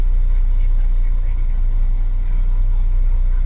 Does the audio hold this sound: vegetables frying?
no